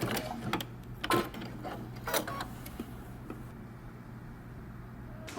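Sewing machine back-stitching the seam of a men's button-up shirt: a few short bursts of needle clatter and motor whir, then quieter mechanism noise as the stitching stops.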